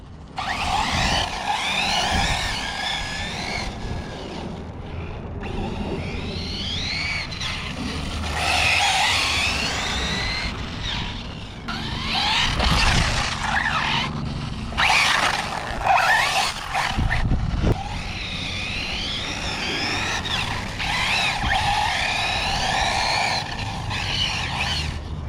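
An Arrma Typhon V5 RC car on Felony Hoons tires whines and skids as it slides through turns, its motor revving up and down in bursts with tire scrub, loud and close.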